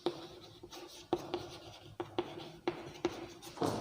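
Chalk or marker writing on a classroom board, a series of faint, sharp tapping strokes and short scratches in an irregular rhythm, heard alone without talk.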